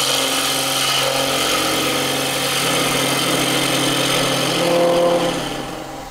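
Wood-turning gouge cutting on a lathe with heavy vibration, a loud continuous humming drone with a rattling chatter that swells slightly before easing off at the end.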